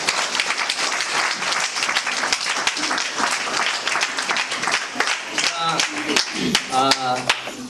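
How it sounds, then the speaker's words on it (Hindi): A wedding congregation claps together in lively, fairly rhythmic applause, close and loud, with voices calling out near the end. "ताली बजाए दें एक बार"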